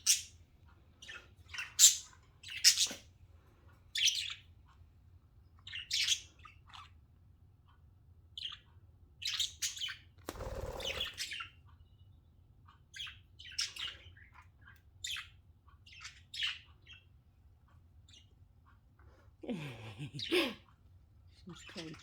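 Several birds chirp and squawk in short, repeated bursts throughout, some calls sharp and close, over a steady low hum, with someone talking between them.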